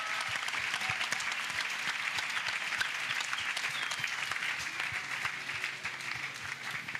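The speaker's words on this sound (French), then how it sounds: "Let's clap." An audience at a salvation, healing and deliverance crusade in Bafoussam claps for Jesus, a dense, steady roar of many hands filling the room for several seconds, loud and continuous.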